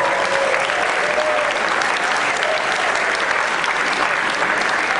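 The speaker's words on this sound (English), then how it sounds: "so huge round of applause" A theatre audience at a children's camp superhero show at the Berkeley Rep gives a loud, dense, sustained round of applause that runs unbroken throughout, with no clear speech.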